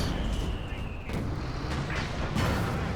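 Indirect artillery and mortar fire in a strategy video game: several heavy, rumbling blasts and bursts land one after another over a dense, continuous battle din, with no clear talk.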